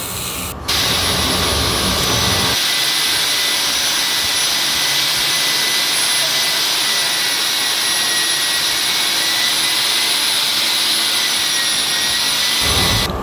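A coring machine drills a hole for a 2-inch plumbing pipe stubout, a loud, steady motor whine with grinding that holds for several seconds and then cuts off, with no talk.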